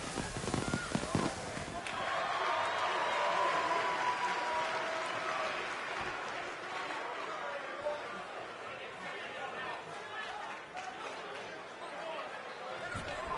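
An arena crowd in a WWE wrestling video game, at an NXT show, roars and cheers in a steady, loud wash, with commentator voices talking over it throughout.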